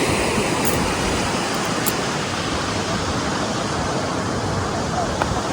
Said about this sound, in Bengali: বেশ ভালো বড় বড় ঢেউ আসছে গো